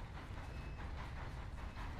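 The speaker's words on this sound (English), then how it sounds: "Gosh, there's a train coming." A train passing in the Red Dead Online video game, a steady low rumble with faint clickety-clack rolling by, fairly quiet and continuous with no talk.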